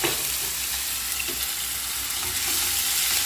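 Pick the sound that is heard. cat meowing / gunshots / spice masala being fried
spice masala being fried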